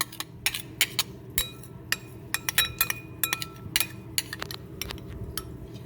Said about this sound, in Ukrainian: Ще й вишкрибатиму ложкою, щоб нічого не залишилось.